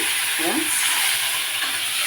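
Hilsa fish pieces frying in hot oil in a pan, a dense continuous sizzle with a brief scrape of stirring early on, close and loud with no voices.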